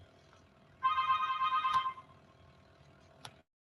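A phone rings once with a bright, electronic melodic tone for about a second, fairly close, over a low background hum in a quiet room.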